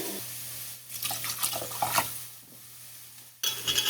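Darker broth pours into a kimchi stew pot, a close, steady liquid splash with a faint low hum underneath, easing off partway and resuming near the end.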